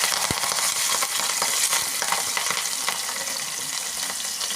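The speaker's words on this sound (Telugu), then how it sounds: "తాలింపు కోసం అయితే ఆయిల్ మంచిగా హీట్ అయ్యాక పచ్చిమిర్చి తీసుకోవాలండి." Green chillies frying in well-heated oil for a tempering, a dense continuous close sizzle with crackling pops throughout, no talking.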